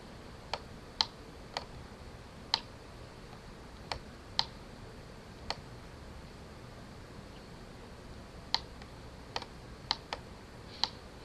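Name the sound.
typing on computer keyboard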